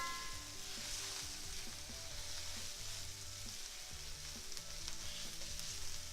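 Jasmine rice sizzles and crackles while being stirred around a hot pan, a continuous close frying hiss with scraping stirring motions over a low, steady background hum.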